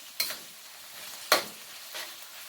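Chicken being stirred in a hot pan with chili and garlic, three brief scraping stirs over a faint continuous sizzle, close and fairly quiet.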